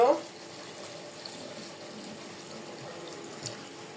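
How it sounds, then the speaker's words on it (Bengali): Hot water pours into a pot of beef for cooking, making a soft, steady running stream after a brief louder splash at the start, fairly quiet throughout. "গরুর মাংসের ভিতরে গরম পানি দিচ্ছি পুরা।"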